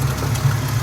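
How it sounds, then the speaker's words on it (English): A 1971 Ford Gran Torino GT engine idles steadily with the hood open, a smooth, even low hum heard up close and without talk. "You can see the engine running here."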